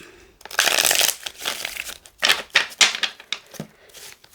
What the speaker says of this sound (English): These are so hard to shuffle because there's so many.